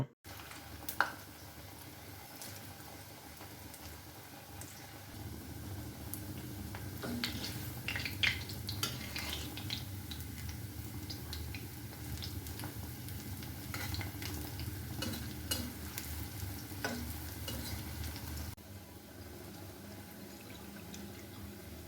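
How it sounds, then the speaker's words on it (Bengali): Sweet potato sweets fry in hot oil in a wok, giving a steady, close bubbling sizzle that runs without a break, with a few stirring clinks and scrapes now and then. "কড়াইতে তেল গরম করে নিয়ে গরম তেলের মধ্যে মিষ্টিগুলো মা ছেড়ে দিল আর ভালো করে ভেজে নিল।"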